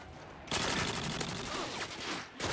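Rapid automatic gunfire in a Modern Warfare 2 multiplayer match on the Quarry map, dense crackling bursts of shots that run almost nonstop, loud and close.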